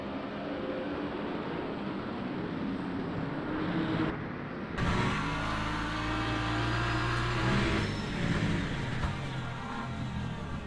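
Race cars launching at the start of a race at Portimao in a racing video game, with engine drone that drops out briefly and then surges back as a loud, rising, layered roar of several cars accelerating.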